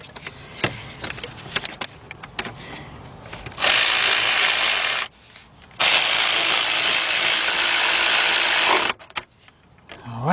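Ratchet tightening a 16 mm oil filter housing bolt on a BMW engine: scattered clicks and clanks, then two long sustained bursts of rapid ratcheting, close and loud.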